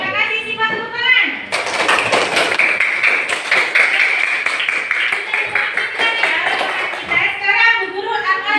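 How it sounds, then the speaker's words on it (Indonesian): Schoolchildren in a classroom applaud a classmate named Siva, a dense patter of small hands that lasts several seconds, with a teacher's voice just before and after. "Terima kasih Siva, tepuk tangan."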